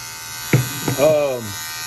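Hair clippers fitted with a 3versince Fade Blade SPX Series 2 blade buzz steadily in the background while a person speaks briefly over the hum.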